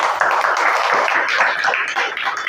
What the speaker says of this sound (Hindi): उनके लिए भी एक जोरदार ताली हो जाए